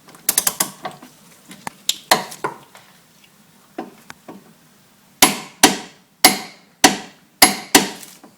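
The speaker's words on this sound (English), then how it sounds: "we're just going to torque that up" A torque wrench ratchets up a front upper wishbone bolt fitted with polyurethane suspension bushes to 95 pounds force per foot, a series of sharp clicking pawl strokes, first quick and lighter, then several loud, evenly spaced clacks.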